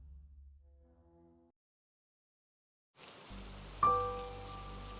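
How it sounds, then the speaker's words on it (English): Steady rain falling on a night, a soft even hiss that starts midway after near silence, with a sustained tonal note ringing over it. "It was a rainy night."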